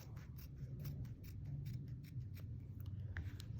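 Scissors snip through thick fabric while trimming excess material from a handmade wall hanging, giving a quiet, close run of soft crunching cuts over a low background hum.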